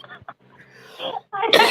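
A person coughs several times in short bursts, ending in a louder harsh cough, with brief vocal sounds between.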